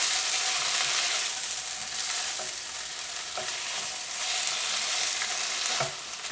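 Eggplant in sour cream sizzles gently in a pan on a low stove, with a steady frying hiss and occasional spoon scrapes as it is mixed.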